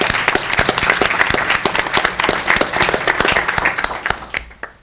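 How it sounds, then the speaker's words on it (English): An audience at a school board business meeting applauds students with dense, vigorous clapping that stays full and steady before tapering off at the very end. "So let's give a round of applause to all of these students"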